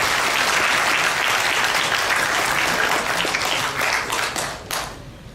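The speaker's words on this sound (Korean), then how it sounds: "뜨거운 박수로 맞이하시기 바랍니다." An audience at a Korean political launch rally claps warmly to welcome a speaker, dense applause that thins out, then a few last claps as it dies away.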